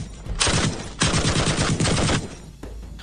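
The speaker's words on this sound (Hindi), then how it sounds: "पाकिस्तान की गोलीबारी का भारतीय सेना नई स्नाइपर राइफलों से जवाब दे रही है" Rapid bursts of gunfire ring out in loud, sustained volleys with short gaps between them, attributed to sniper rifle exchanges along the Line of Control between India and Pakistan.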